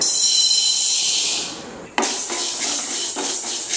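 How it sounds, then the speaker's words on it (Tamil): Dry green gram tipped into a kadai, then a dry scraping rasp as it is stirred, sounding close and clear with a few sharper scrapes and no speech. "வறுக்கிறதுக்கு ஒரு கடாயில போட்டுக்கிறேன்"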